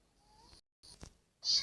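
Cat meowing in the video game Minecraft, a few short, close meows separated by brief gaps, the last one louder and brighter.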